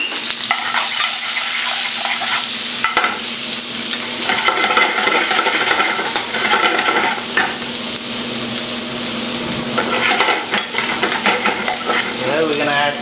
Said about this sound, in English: We're gonna add the onion.